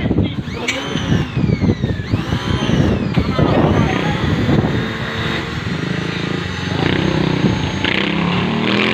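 A pressure washer with a weak flow and a faulty auto shutoff sprays water onto a concrete floor to strip dirt and moss, giving a loud continuous hiss and motor drone with people talking over it.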